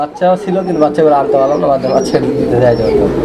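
Pigeons on a pigeon farm coo in low throaty bursts, close and overlapping, with soft rustling between calls.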